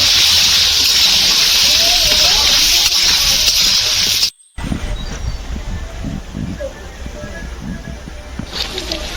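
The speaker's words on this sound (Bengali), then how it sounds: "বন্ধুরা আমার আলু ভাজার হয়ে গেছে লাল লালভাবে ভাজা" Potato pieces fry in hot oil with salt and turmeric, giving a steady bright sizzle that stops abruptly; after the break, a person talks over quieter kitchen sounds.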